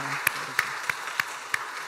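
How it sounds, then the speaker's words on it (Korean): A church congregation applauding to welcome children, sparse, sharp individual claps in an uneven rhythm over a low murmur, moderately near. "먼저 우리 유치부 어린이들, 유초등부 어린이들을 뜨겁게 박수로 환영해 주시기 바랍니다"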